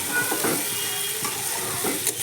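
Food frying hard in hot oil, with loud crackling and sharp popping bursts over a steady sizzle, close up and continuous with no voices.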